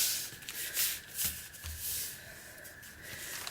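A folded paper bag being smoothed flat by hand, soft close rustling and brushing strokes with a few crinkly swipes, quiet and continuous.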